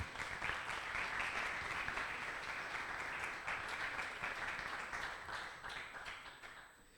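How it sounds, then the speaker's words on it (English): Audience at a networking tech meetup applauds a speaker after a talk, a sustained round of clapping heard from a distance at low volume that gradually tapers off toward the end. "Thank you very much, Aleksei. An applause."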